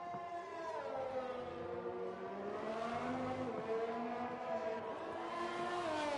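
A Ferrari race car engine screams at high revs on a flying lap in the F1 2020 video game, a sustained harmonic whine that rises and falls through gear changes and holds steady for several seconds with no voices.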